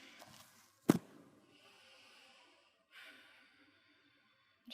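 Deep breaths during a yoga session, a sharp nasal inhale-like burst followed by soft, drawn-out breaths, close and quiet, with no talking.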